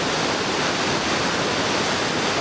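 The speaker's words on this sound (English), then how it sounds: "where they'll meet the surge of water coming down this fish path" Powerful water surging down the stepped fish pass of Topcliffe weir, a constant loud roaring rush that stays unbroken throughout.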